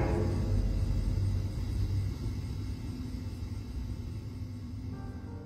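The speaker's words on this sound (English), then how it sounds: "While the sky rumbles with thunder and lightning" Thunder rolls in a deep, continuous low rumble across a rainy night, strongest at first and gradually easing off, with no voices.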